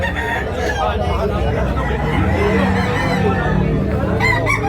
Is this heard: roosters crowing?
yes